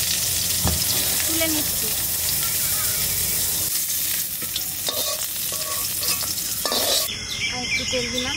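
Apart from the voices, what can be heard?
frying cauliflower in a pan, stirring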